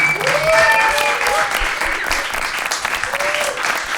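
Another round of applause for an Afro-Peruvian musician: a loud, continuous burst of crowd clapping mixed with cheers and a few whoops, lasting throughout.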